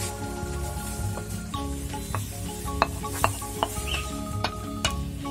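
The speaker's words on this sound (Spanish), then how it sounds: "ese es el momento ideal para echarle nuestra crema" Cream poured into a pan of softened, translucent onions and stirred, giving a steady gentle sizzle with soft scraping strokes and a few light clinks of the utensil against the pan.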